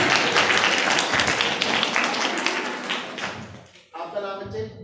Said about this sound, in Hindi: दो जोरदार तालियां।